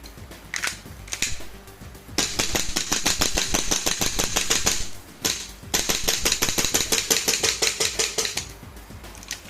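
A 1911 Hi-Capa airsoft pistol fitted with a JLP recoil buffer fires two rapid strings of sharp, evenly spaced clacking shots, loud and close, with a short pause between the bursts.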